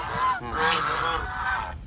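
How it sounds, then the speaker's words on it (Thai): Geese honk repeatedly and loudly up close at Bang Pla Ma Tiger Park in Suphan Buri, Thailand, a busy overlapping chorus of nasal calls throughout. "อันนี้ห่านนะฮะ"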